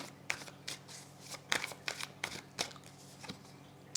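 Tarot cards handled and laid out on a table during a reading: soft scattered slaps, shuffles and paper rustles, quiet and close, with no talking.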